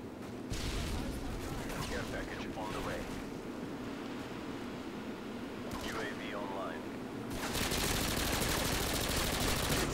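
An MP5K submachine gun in Modern Warfare 2 on the Highrise map fires in long rattling stretches at a steady rapid rate, with gaps between them. Someone talks over the gunfire throughout.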